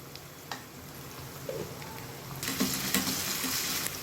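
Onion and ginger-garlic paste masala sautés in a pan with a continuous frying crackle. A few stirring knocks come through, and the sizzle swells louder near the end.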